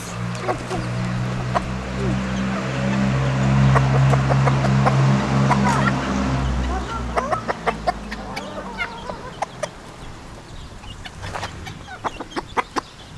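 Chickens cluck and peck close by while feeding, with a busy murmur of clucks early on giving way to sharp scattered pecking taps near the end.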